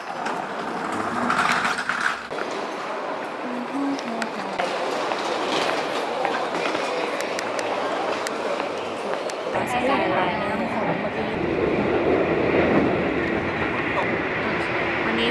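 A Keisei Line commuter train in Japan rumbles and clatters steadily from inside the carriage, with wheel noise and a shift in the rolling sound partway through, and someone talks over it throughout.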